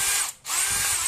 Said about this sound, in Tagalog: Ang barina.